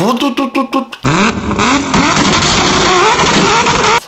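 Sports car engine revving hard, a few short throttle blips rising in pitch, then a sustained loud roar climbing and holding at high revs before cutting off abruptly.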